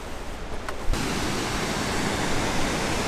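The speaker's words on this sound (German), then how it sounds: "Geht das Wasser runter und wird dann hier eingespeist in das Fallrohr hier hinten." River water rushing down into the penstock of a hydropower plant in Nepal, a dense, steady roar that swells in loudly after a quieter first second and then holds unbroken and close.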